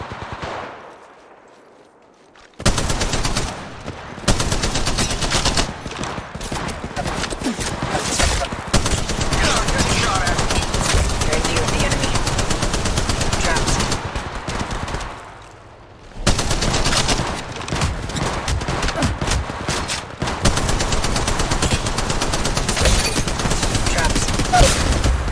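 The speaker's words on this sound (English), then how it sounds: "Shots fired and they're hitting me." Sustained automatic gunfire in the mobile video game Apex Legends Mobile rattles loud and close across two long stretches, with a brief quiet gap in between and no voices over the shooting.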